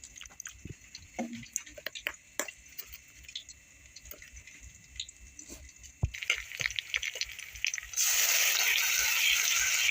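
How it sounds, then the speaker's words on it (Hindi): Masala thinned with water is added to onions in a pan for lauki sabzi. It starts with soft wet stirring and squishing noises, then a steady loud sizzle of frying takes over for the last couple of seconds. "अब इस मसाला को हमें तब तक फ्राई करनी है जब तक कि इसमें से तेल ना अलग होने लगे।"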